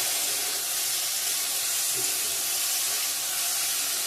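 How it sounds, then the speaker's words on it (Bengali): Constant loud sizzle of jujube plums (kul) frying in oil for a sweet-and-spicy pickle, a dense uniform hiss with no voices. "ভালো করে ভেজে নিব"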